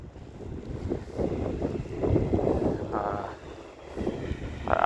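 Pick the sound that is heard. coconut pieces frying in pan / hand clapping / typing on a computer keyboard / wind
wind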